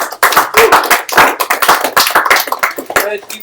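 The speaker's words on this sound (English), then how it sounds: "Please give a round of applause." A small group at a live-streamed session claps in irregular, sharp bursts of hands, fairly close and loud, with gaps between clusters of claps.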